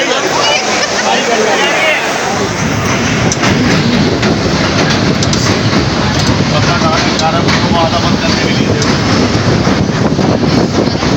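Train rumbling past in Lahore during a stormy downpour, a loud, continuous roar with clattering wheels that builds after a couple of seconds and stays steady, with people talking faintly in the din.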